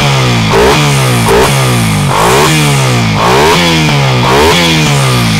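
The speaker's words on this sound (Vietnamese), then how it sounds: "Đây là tiếng máy của xe Raider 68" A Suzuki Satria Raider Fi motorcycle with a quiet aftermarket exhaust revs close up, its engine rising and falling in repeated loud blips over a steady idle with no talk.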